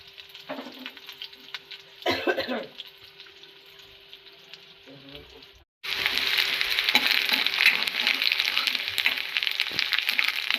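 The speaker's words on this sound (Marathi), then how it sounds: "आता आपण कांदा टाकू तेलाला कडा तेल झालं का कांदा टाकू आता कढीपत्ता टाकू" Onion and curry leaves dropped into hot oil in a pan: a few scattered stirs and crackles, then a sudden loud, dense sizzle that carries on steadily up close.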